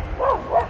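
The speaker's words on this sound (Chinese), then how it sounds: "除了有一些狗在叫。" Dogs barking near Two Jack Lake in Banff National Park, two short, soft barks spaced apart, heard at a distance against quiet lakeside ambience.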